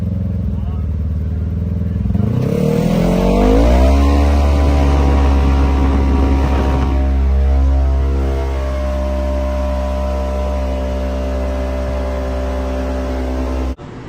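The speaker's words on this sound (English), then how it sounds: "we're going to show you a stock Expedition versus the Pro EFI Expedition with the turbo" Stock Ford Expedition and a turbocharged Pro EFI Expedition on 91 pump gas accelerate hard in a drag race, a loud steady engine drone with rising harmonics as revs climb, then a sustained high cruise tone through the run.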